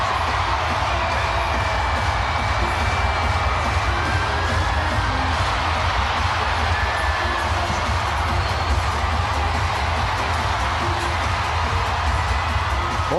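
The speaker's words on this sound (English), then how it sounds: "Listen to this crowd." Loud, sustained roar of a near-capacity crowd of about 18,500 cheering in a basketball arena during a timeout of a women's Big Ten Tournament championship game, a dense unbroken wall of voices with scattered whoops throughout.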